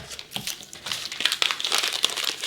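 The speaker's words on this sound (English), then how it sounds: "I'm going to cut the tape." Tape being cut and peeled at a crafting table, a short run of crinkly, crackling tearing sounds, close and fairly quiet, with no talking.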